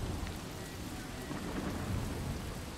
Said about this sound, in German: Das Gewitter ist da.